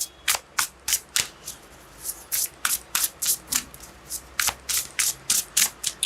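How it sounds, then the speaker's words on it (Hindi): Tarot cards being riffled and shuffled by hand, a rapid run of crisp, close flutters and taps in a fairly regular rhythm with no talking. "One more shuffle."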